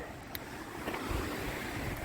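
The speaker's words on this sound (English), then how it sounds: "It's very windy out here, like very windy." Strong wind roars and buffets the microphone outdoors at a canyon, a steady rushing noise with low gusty rumbles and no voices.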